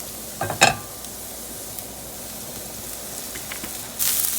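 Mushrooms sizzling in olive oil in a pan, a steady soft frying hiss with a couple of sharp utensil clicks near the start and a louder spatter toward the end.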